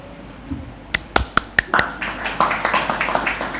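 Scattered sharp claps grow into steady applause from an audience at a devotional talk, starting with a few loud separate hand claps, then settling into a fuller, even patter.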